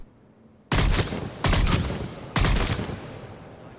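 Three sharp bursts of fire from the Valkyrie rifle in Mass Effect 3, each loud, close and trailing off, spaced about a second apart over a quiet background.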